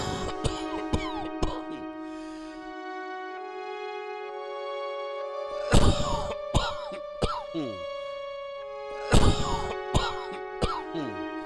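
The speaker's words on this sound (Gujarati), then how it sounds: "આજે તો તમને બહુ ઉધરસ વધી ગઈ લાગે છે" An elderly father with a worsening cough breaks into several harsh, loud coughs and throat-clearing bursts in clusters, with quieter wheezy breathing and a faint steady hum between fits.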